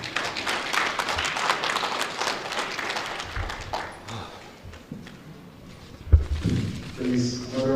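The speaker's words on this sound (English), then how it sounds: "Please, another round of applause for Chairman" Round of applause from attendees at an election commission review meeting, loose clapping for several seconds that thins out, followed by a few thumps and a voice speaking.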